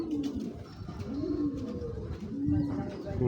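Club-raced pigeons coo close by in repeated low, wavering calls with a soft rhythmic pulse, with some faint background noise.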